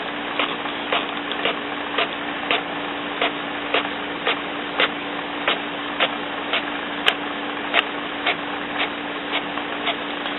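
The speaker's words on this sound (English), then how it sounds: "the printer and watch it print out" An HP Officejet wide format inkjet printer prints a page: a steady mechanical whir with a constant hum and a regular ticking click from the print head carriage roughly every half second.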